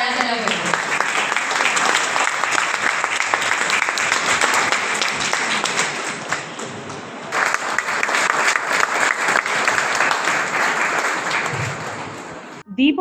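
Dense, steady applause from an audience at a ceremony opened with lamp-lighting and Saraswati worship, loud and continuous for about twelve seconds before cutting off abruptly at the end.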